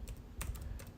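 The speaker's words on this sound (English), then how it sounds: "let me type something in the chat" Rapid typing on a computer keyboard, with quick, close, uneven clusters of key clicks over a low background hum.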